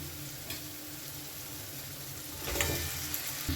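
Fried fish head pieces and potato going into a pan of spiced masala for muri ghonto, giving a steady low sizzle that swells louder near the end with a few stirring scrapes.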